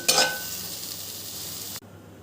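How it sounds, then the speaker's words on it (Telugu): Ingredients frying in butter in a pan for white sauce pasta, a loud steady sizzle that flares up at the start and then cuts off abruptly near the end. "ఇలా పచ్చి పచ్చివాసన పోయేంత వరకు ఫ్రై చేసుకుని పక్క తీసుకోవాలి"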